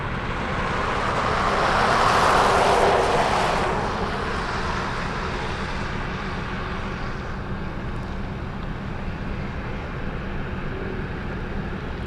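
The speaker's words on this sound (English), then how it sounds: "Arriving on runway 7 right, we have Nippon Cargo Airlines Flight 160 flying in from Narita." A Nippon Cargo Airlines jet lands on runway 7 right at Anchorage airport, a distant engine roar that swells and peaks, then fades into a steady low rumble, with no talking.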